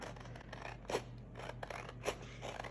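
Scissors snipping around a vinyl-covered paper image, a few quiet separate crisp cuts with short pauses between, up close and without speech.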